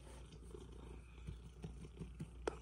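A cat's low, steady purr rumbles quietly and close, with faint soft rhythmic pulses and small rustles.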